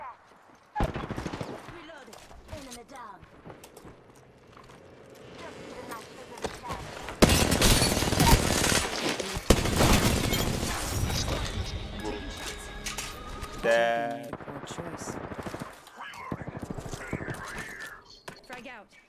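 Gunfire in a ranked battle-royale shooter match, bursts of shots and a loud heavy stretch of fire in the middle, mixed with other game effects while a player talks over it.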